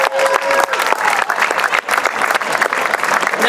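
Sustained, loud applause from an audience after a speech at an ethnic studies event, dense continuous clapping from many hands filling the whole stretch without letting up.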